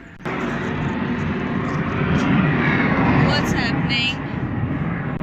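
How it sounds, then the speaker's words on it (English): A loud aircraft passes overhead above an apartment balcony in Germany, a steady broad roar that swells toward the middle and eases slightly, with a person speaking briefly over it. "Yeah, can you see this aircraft? I don't know what's happening here, but it was loud."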